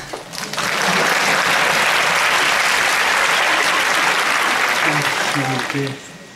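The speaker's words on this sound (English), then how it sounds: "Applause." Audience applause fills a conference opening ceremony, steady and loud for several seconds before tapering off, with faint voices underneath near the end.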